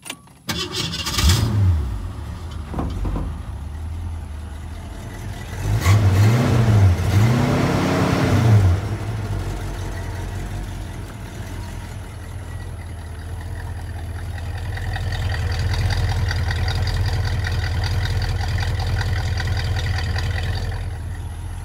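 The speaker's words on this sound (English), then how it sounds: "Fires right up, so we'll start the motor" A 1966 Ford Mustang convertible's 289ci V8 cranks briefly, catches and revs, then settles into a steady, close rumbling idle.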